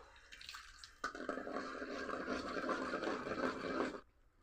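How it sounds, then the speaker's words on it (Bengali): Milk poured steadily into a wok for a ripe mango milk pudding, a close continuous liquid splashing and gurgling that starts abruptly, runs about three seconds and then stops. "দুধটা কড়াইয়ে ঢেলে দিব"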